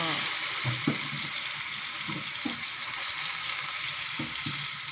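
Chicken giblets stir-fry in a hot pan with a constant close sizzle, while a spatula scrapes and clacks at intervals throughout.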